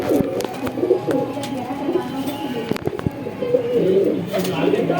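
Pigeons of the Deobandi and Bajrai breeds coo steadily in a loft, their soft rolling calls overlapping close by, with occasional wing flaps or scuffs in between.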